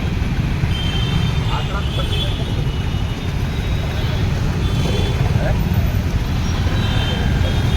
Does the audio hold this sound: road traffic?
yes